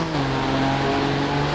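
A car engine in the Initial D: Touge Spirit racing game holds a steady, loud drone with a constant pitch, running continuously with no talk over it.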